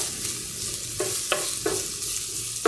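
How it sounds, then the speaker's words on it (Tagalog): Garlic and ginger sizzle steadily as they fry in a pan, a continuous close hiss broken by a few brief stirring scrapes, with no talking. "mag-brown yung kanyang bawang, at saka medyo mag-brown-brown din yung ating luya."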